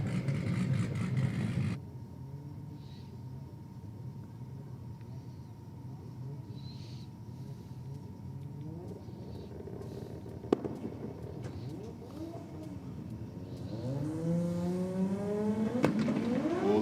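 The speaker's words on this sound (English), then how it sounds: "Both of them popped and banged." Two Nissan Skyline R33 drag cars launch hard at a race track, engines rising from a rumble into strained revs with a sharp pop or bang midway, rising sweeps near the end.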